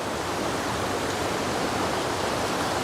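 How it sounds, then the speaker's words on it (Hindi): A fast-flowing stream fed by a waterfall rushes in a jungle, a steady, loud, close wash of water with no break and no voices. "ये नाला कितना तेज़ चल रहा है। ये वही वाटरफॉल का पानी है"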